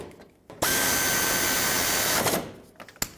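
Power tool driving radiator bracket bolts on a 2003-2008 Subaru Forester: one loud, close whirring burst of about two seconds, followed by a few small clanks.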